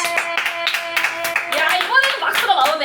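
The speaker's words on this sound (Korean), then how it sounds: "이번에는 박수가 나오네" Audience clapping breaks out during a dance performance review, with music playing throughout and people talking and exclaiming over it; the applause is moderately loud and sustained across the moment.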